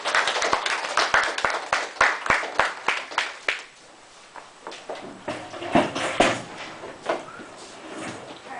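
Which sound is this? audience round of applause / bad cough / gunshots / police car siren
audience round of applause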